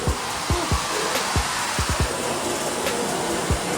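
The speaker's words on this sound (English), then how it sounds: "I got the heat cranked, so we are pretty much melting anything left on this floor away." A heat gun wand cranked to high heat melts leftover cleaning residue off a tile floor, giving a steady loud blowing roar with occasional low thumps underneath, no talk.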